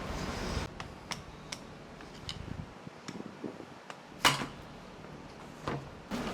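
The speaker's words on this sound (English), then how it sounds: "you just want to take a screwdriver or flathead with your dead blow hammer and just kind of start knocking around" A dead blow hammer knocks a flathead screwdriver against a Jeep Wrangler JK Rzeppa CV joint plate, giving a series of sharp, irregular taps with quiet gaps between them and one heavier strike.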